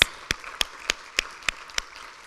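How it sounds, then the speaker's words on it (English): Audience at an awards celebration applauding, heard as sparse, evenly spaced sharp claps, about eight distinct hand claps over a couple of seconds, fairly close and without overlapping crowd noise. "let's just give all of you another round of applause."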